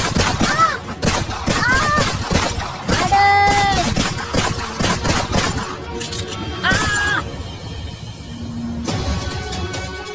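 Dramatized gunfire from a revolver in a retelling of Indira Gandhi's assassination, with loud cracking shots and shattering bursts layered over music and dramatic voices.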